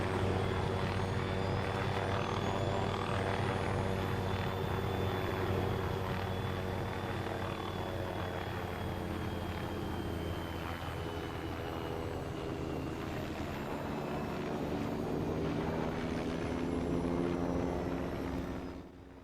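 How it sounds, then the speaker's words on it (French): An airliner taking off in the Arma video game, a loud sustained engine roar with rising whine, holding steady close by for the whole stretch before easing off at the end. "Royal Airlines demande l'autorisation de décoller de la Vegas."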